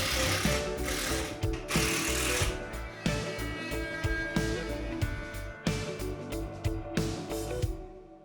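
Screws being driven into an old sailboat water tank, one in each corner, with a rapid ratcheting, whirring mechanical buzz in repeated bursts and short pauses, loud and close throughout.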